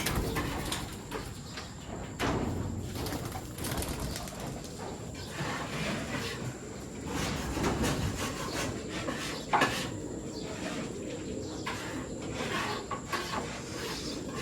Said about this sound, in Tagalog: Papakain tayo sa mga stock birds natin tsaka sa mga flyers.